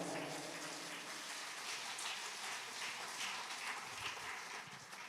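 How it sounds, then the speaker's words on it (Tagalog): A church congregation applauds together, a dense, steady wash of clapping that sounds like heavy rain and holds at an even, moderate level throughout, with no talking. "Palakpakan natin ang Diyos."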